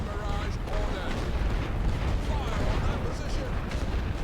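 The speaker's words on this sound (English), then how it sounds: "So I am just firing away with my artillery, getting started, hitting their positions" Artillery batteries in The Great War: Western Front keep up a continuous deep, rumbling barrage, with booms blending into a steady roar without clear gaps.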